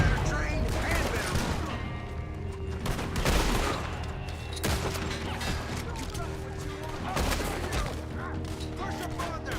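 Gunfire in Red Dead Redemption 2 during a shootout, a dense barrage of shots and sharp cracks over a steady background, with someone talking at times over the action.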